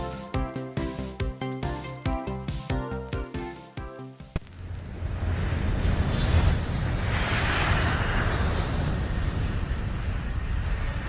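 Short musical stabs give way to a loud, steady jet roar, a broad rushing engine noise that swells and holds as an airplane passes.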